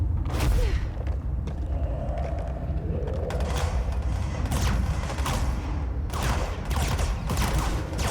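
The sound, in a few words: gunfire shooting at a shield in a video game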